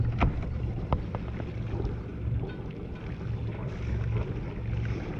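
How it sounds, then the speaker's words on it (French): A boat's engine idles in the port of Piriac-sur-mer with a low, rumbling drone under wind and water noise, plus a few sharp knocks early on. "On remet le moteur à 0."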